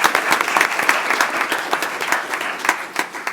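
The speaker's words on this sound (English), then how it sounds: "another round of applause" Applause at a city commission meeting for a first place winner, a moderately loud round of many hands with some distinct sharp claps standing out near the front.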